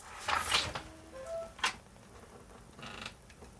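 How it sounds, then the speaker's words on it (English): A door opens in a home fitted with a Simplisafe security system, short creaks and clicks of the mechanism followed by a faint tone and soft knocks, fairly quiet overall. "open the door"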